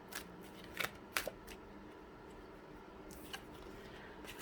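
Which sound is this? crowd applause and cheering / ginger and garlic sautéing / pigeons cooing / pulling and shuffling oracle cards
pulling and shuffling oracle cards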